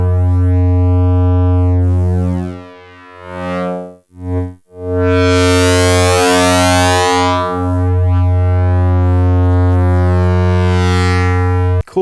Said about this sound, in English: Let's listen to it with a sine wave